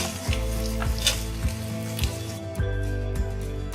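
Chopped potatoes fry with roasted peanuts in a pan for poha, giving a steady close sizzle with a few soft stirring scrapes, and no one speaks.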